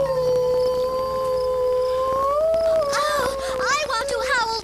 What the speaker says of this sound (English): Howling is how wolves talk to each other.